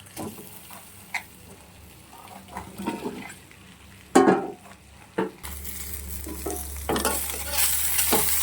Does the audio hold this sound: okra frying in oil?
yes